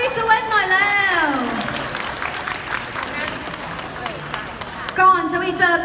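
An audience at a Pocari Sweat product launch in Thailand gives a burst of clapping. The applause sits between and under an amplified presenter's voice, which opens and closes the stretch.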